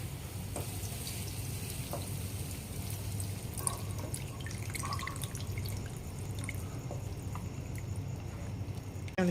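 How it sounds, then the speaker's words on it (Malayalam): Soaked tamarind water poured into a pan while cooking a brinjal dish, heard as a steady, moderately quiet liquid trickle with light dripping and splashing throughout. "നെല്ലിക്ക വലിപ്പത്തിലുള്ള പുളി പുളി എടുത്തിട്ട് അത് സോക്ക് ചെയ്യാൻ വെച്ചിട്ടുണ്ടായിരുന്നു അപ്പൊ അതാണ് നമ്മൾ ഒഴിക്കാൻ പോകുന്നത്"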